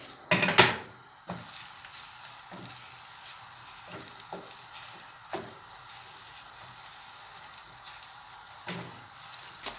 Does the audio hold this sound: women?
no